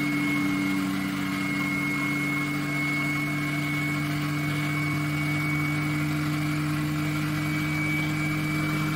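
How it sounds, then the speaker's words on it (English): A small DC generator motor spins a flywheel while powering a 500-watt heating lamp, giving a steady, even hum with sustained tonal whine, close and unbroken. "Let's turn it on now. It's a small motor, but the voltage and RPM drop slowly because of the kinetic energy stored in the flywheel."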